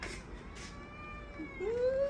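A small domestic kitten meows once near the end, a rising, drawn-out call over quiet indoor room noise.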